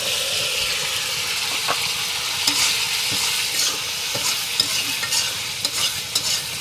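Chopped tomatoes with salt, spices and a little water cook in a pan with a loud, steady, bubbling sizzle. Stirring adds soft intermittent scrapes that grow more frequent toward the end.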